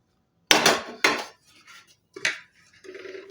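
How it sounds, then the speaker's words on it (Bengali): A metal lid lifted off a cake pot cooking on a stove, giving two sharp clanks close together, then a lighter knock and a soft scrape, each brief and near in a quiet kitchen. "25 মিনিট পরে আমি একটা ঢাকনাটা খুলছি।"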